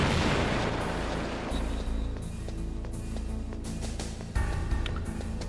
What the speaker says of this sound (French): donc tu lâches une bombe